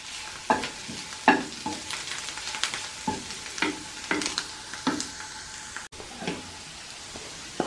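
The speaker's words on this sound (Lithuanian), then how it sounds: "Morkos apkepė su svogūnais." Carrots and onions fry in a pan with steady sizzling, while a utensil stirs and scrapes through them in repeated clear strokes, with no talking.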